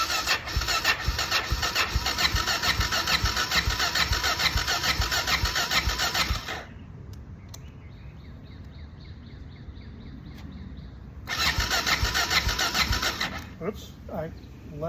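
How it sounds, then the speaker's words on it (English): A Honda XR650L motorcycle engine is started after storage, catching quickly and running a loud, rapid idle for about six seconds, then cutting to a quiet stretch with faint voice before firing up again near the end. "What I'm going to do is turn on the fuel and start at the same time"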